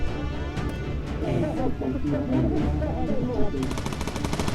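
Rapid machine-gun bursts from bomber turrets in the Bomber Crew video game fire repeatedly in a dense, continuous clatter, with crash-like impacts mixed in.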